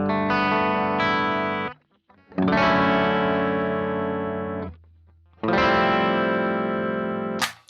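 An electric guitar played through a BOSS GT-1000CORE amp model, with reverb and delay bypassed, rings out three long, loud, distorted chords. Each chord sustains for a couple of seconds and then cuts off sharply, leaving short gaps between them.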